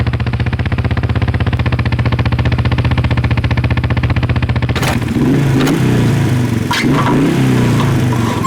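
A faulty motorbike engine idles with a fast, steady clattering pulse, loud and close, then breaks into rough, uneven revving bursts.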